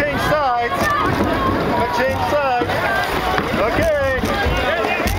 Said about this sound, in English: Paddle on my right, right it is.